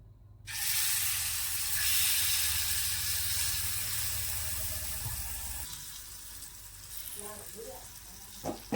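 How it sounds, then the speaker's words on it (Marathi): Ragi appe batter hitting hot oil in a greased appe pan gives a loud, steady sizzle that starts abruptly and then slowly fades, with faint clinks near the end. "त्यामध्ये ना थोडं थोडं तेल घालून घ्यायचं तर यामध्ये ना आप्पे घालून घेऊया"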